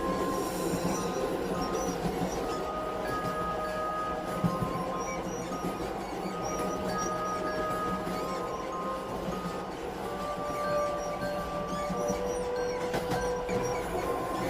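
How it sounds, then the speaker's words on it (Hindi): A train starting to move on its rails, a steady rolling rumble of wheels with intermittent metallic squeals and clinks throughout, continuous and fairly close. "ट्रेन चलने लगती है।"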